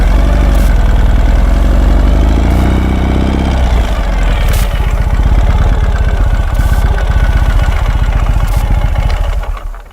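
A military 1969 Mercedes Unimog engine runs loud and close, a deep steady idle with a low throbbing rumble that persists throughout before easing off at the end.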